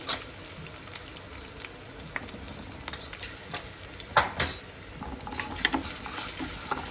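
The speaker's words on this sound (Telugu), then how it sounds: "ఇప్పుడు ఆవాలు వేసుకుందాము" Mustard seeds dropped into hot oil for a traditional pansapottu curry, sizzling and popping steadily, with scattered crisp crackles and a few louder pops spread across the clip, close and moderately quiet.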